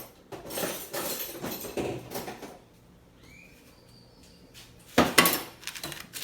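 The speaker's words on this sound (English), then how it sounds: "Okay, you have to remember to scrape the dough." Spoon scraping chocolate chip cookie dough, with short bursts of scraping and clinking near the start and again near the end, separated by a quiet pause.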